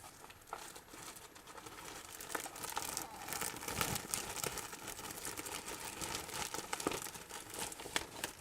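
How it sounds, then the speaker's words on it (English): Yarn packaging crinkles and rustles continuously at close range during crocheting, with a steady, fairly soft plastic crackle and scattered sharper crinkles throughout. "Sorry for the crinkling."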